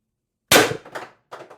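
A single sharp shot from an IntruBuster Gen 2 HPA airsoft carbine running at 1100 psi, a loud close crack with a short mechanical tail and a faint following click, alone after silence.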